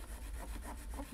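Rhythmic rubbing strokes as a cloth polishes Singer 401a vintage sewing machine parts, soft repeated back-and-forth scrubbing heard close over low background hum.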